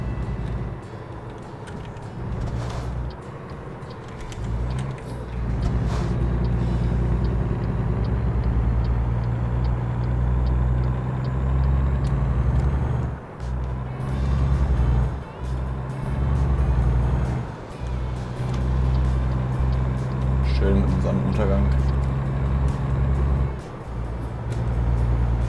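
A truck cruises along an interstate freeway in American Truck Simulator, its engine droning steadily with a constant low rumble and road noise, occasional brief clicks and thumps over the top, no talking.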